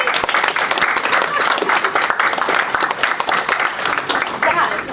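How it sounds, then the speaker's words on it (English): An audience at a music session gives a sustained, fairly loud round of applause, dense clapping that carries evenly through the whole stretch with some voices mixed in. "that also deserves a pretty big round of applause"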